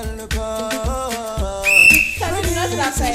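During a music quiz show, a person whistles a short, bright, sustained note over playing music with a prominent melody and a steady beat.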